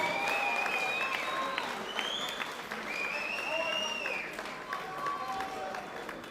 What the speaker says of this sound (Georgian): Clap your hands for both the sportsmen.